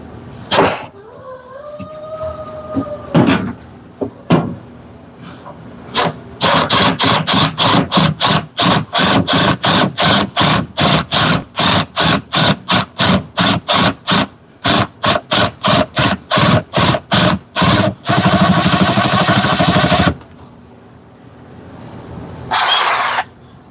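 DeWalt power tool running while a surge protector is fitted, a loud close rapid chattering burst of repeated impacts after a short start, stopping and resuming briefly at the end.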